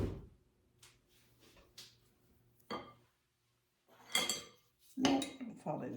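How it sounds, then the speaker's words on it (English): Metal beaters being pulled off a stand mixer in a home kitchen while fruitcake cookie dough is made, giving a few clinks and clatters of metal on metal and bowl, with quiet speech and background noise between them. "I'm going to take these beaters off."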